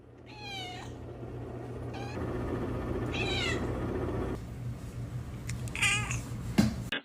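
A domestic cat meows several times, short rising-falling calls spaced a second or two apart over a low steady household hum, ending with a brief louder bump.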